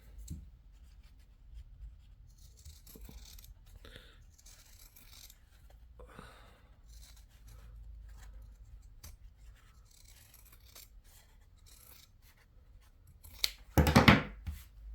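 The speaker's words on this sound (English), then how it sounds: "And again, trim the seam." Scissors trim the fabric seam of a sailor hat, with faint sporadic snips and soft rustles of cloth followed by a louder burst of close cutting near the end, and no speech.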